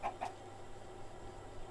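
A chicken in the video game Minecraft gives two short soft clucks right at the start, then only a faint steady game background remains.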